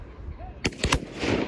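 Two sharp shotgun blasts fired in quick succession at partridge on a Lake District game shoot, loud and fairly close, ringing out over a low outdoor background.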